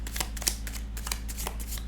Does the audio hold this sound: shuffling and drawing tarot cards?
yes